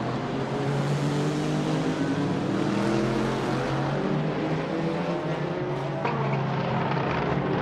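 Race cars, including a Corvette, a McLaren and an Alpine in GT3 and hypercar classes, roar steadily through the Daytona 24-hour race in a racing video game, with dense, continuous engine drone heading into a braking zone.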